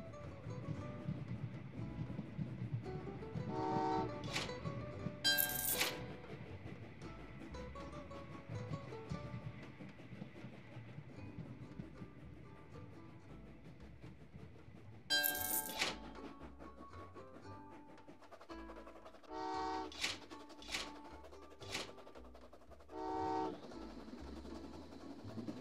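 Trains run along the tracks in the Train Valley 2 puzzle game, a steady low rumble with several bright whistle or horn bursts standing out against it.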